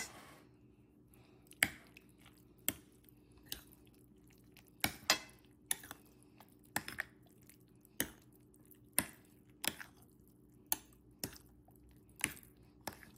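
Chia seed mango cooler drink being mixed by hand, a spoon or utensil knocking and clinking against the container in irregular, fairly close taps over a soft wet background, with no talking.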